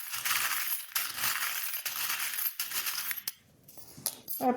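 Small metal charms clink and rattle in quick, light bursts as they are picked out one by one during a divination reading, close and fairly quiet, with no talking.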